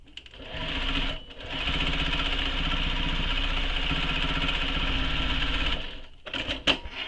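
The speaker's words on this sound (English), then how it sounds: "Just back stitch over it a few times." A sewing machine back stitches several times over a connector while sewing a convertible tote bag, running steadily and loudly for about five seconds with a brief pause near the start and softer clicks at the end.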